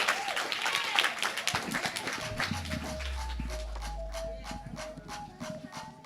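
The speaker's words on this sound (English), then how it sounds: "y'all give her an extra special hand of applause" Scattered applause from a poetry slam audience welcoming the event's MC, moderate and uneven clapping, joined midway by a low hum and a faint tonal sound.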